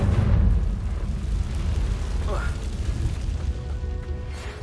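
A Confringo spell goes off in Hogwarts Legacy: one deep, close boom at the start that fades into a low rumbling tail over the game's background.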